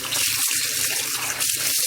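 Tap water runs steadily into a kitchen sink while kitchen containers are washed, a close, continuous splashing hiss broken by brief dips as the flow is blocked by handling.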